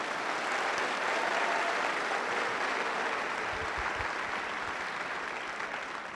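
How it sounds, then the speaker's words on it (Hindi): An audience at an indoor training seminar bursts into sustained applause, a dense wash of clapping hands that stays loud before easing slightly toward the end. "आपके लिए आज आप खुद ही ताली बजाइए"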